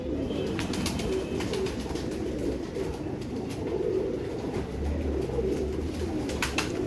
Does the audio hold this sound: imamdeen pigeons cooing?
yes